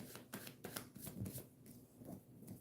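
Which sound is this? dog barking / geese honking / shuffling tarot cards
shuffling tarot cards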